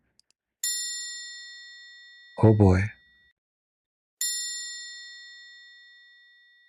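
A bell gives two separate struck rings, each with a clear, bright tone that fades slowly over a few seconds. A short spoken exclamation falls in the quiet gap between the two rings.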